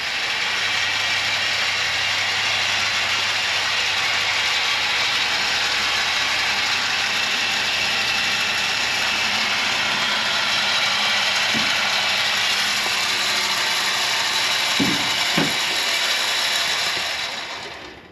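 Ratchet straps click in a long, continuous run of pawl ratcheting as they are tightened to hoist a heater up into the rafters, loud and close with no speech.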